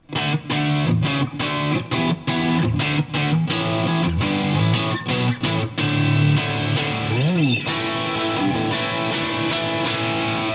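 Loud, distorted electric guitar through a Friedman amp model with added reverb plays chugging, rhythmic riffs with a brief bending note, ringing out steadily throughout.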